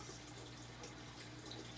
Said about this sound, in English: I'm going to pour from the bucket here because that's just going to be a little bit easier right now, but I do want to pour slowly.